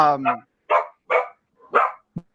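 A dog barks four times in an uneven series, fairly close and loud, ending with a short thump; the barks stand alone with no talk over them.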